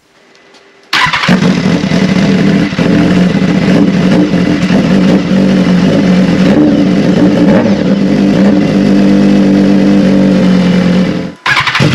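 A motorcycle fitted with a GP70R SC Project race muffler fires up abruptly and revs hard, a loud, close, raspy exhaust roar with blips held for about ten seconds before cutting off.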